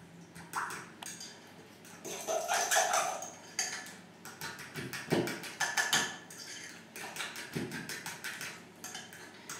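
Tart batter for a pear and almond tart being mixed in a salad bowl, a run of quick clinking, ticking utensil strokes against the bowl that come in bursts, fairly faint and with no talk.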